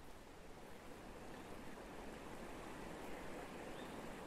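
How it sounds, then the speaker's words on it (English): A flowing river stream in the video game Deer Journey gives off a steady, even rush of water with no talk over it. "Ooh, there's a river and a stream."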